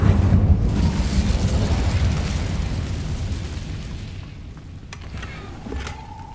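Incendio fire spell cast in Hogwarts Legacy: a loud, roaring burst of flame that starts at full strength and slowly fades over several seconds, with a few faint later snaps and tones.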